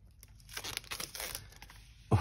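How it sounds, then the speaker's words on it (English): Plastic wrap on a tarot book is cut and torn away, with crinkly tearing and crackling over two seconds that ends in a sharp thump. "Just going to cut through the plastic"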